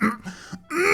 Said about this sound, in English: You just hear this incredibly loud, exaggerated cough from the bar.